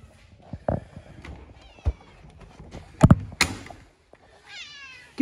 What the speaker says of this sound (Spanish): Tengo una gatita acá.